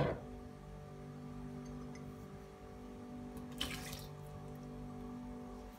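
Water trickles and splashes softly as it is poured into chocolate cake batter, with a brief louder splash partway through; quiet and close, no talking.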